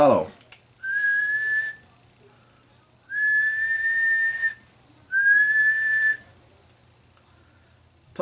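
Someone whistles into the microphone of a Browning Golden Eagle BB-30 CB radio, three sustained steady whistled tones, each about a second long, separated by short silent gaps over a faint hum.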